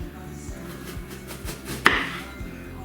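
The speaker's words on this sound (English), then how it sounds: "I'm going to slice up a couple other red onions" A knife slices red onions on a cutting board at home, making a steady run of close, crisp chopping strikes about every quarter second, with one sharper knock near the end.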